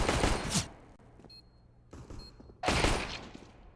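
Bursts of automatic rifle fire in Counter-Strike on the Mirage map during an ESL Challenger League match, two loud sustained volleys separated by a quieter gap with softer shots, all close and without talk.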